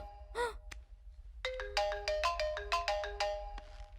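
A mobile phone ringtone plays a bright, rapid electronic melody of repeated tonal notes after a brief squawk-like sound, clear and close with a low background hum and no talk.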